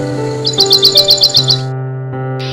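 A cartoon sparrow chirps in a quick, even run of about nine bright, high tweets, followed by a short pause and a final faint chirp, all over steady tonal background music.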